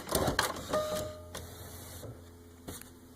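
An inkjet printer being opened to change ink cartridges, with a few sharp plastic clicks and clunks close by and a faint mechanical hum between them, no talking.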